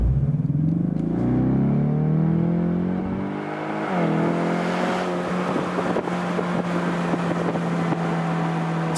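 A Ford Mustang EcoBoost 2.3-litre turbocharged four-cylinder, over 300 horsepower, accelerates hard. The engine drones loudly and steadily, its pitch climbing, then settles into a sustained roar with wind noise and no talking.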